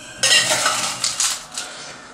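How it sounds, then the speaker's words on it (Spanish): Crushed ice tumbling into a glass for a mojito, a bright rattling clatter of icy chunks that starts suddenly, then fades with a few smaller clinks. "Lo vamos a llenar de hielo picado hasta arriba"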